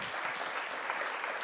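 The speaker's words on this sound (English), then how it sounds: "Round of applause for Rory and Simon" An audience at a football writing festival talk applauds two speakers, giving a brief, dense wash of clapping that sounds moderately distant.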